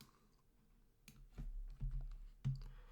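Light typing on a computer keyboard: a few soft, scattered key clicks and taps, close and quiet, with no talking.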